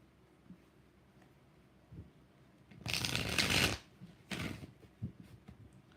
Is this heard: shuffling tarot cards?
yes